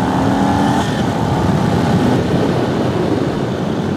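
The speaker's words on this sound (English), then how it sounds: "This engine with these smaller bikes is no joke." A cruiser-style motorcycle with a small bike's engine, ridden in second gear at about 32 to 34, drones loudly and steadily throughout, with the engine note rising slightly as it revs and strong wind noise.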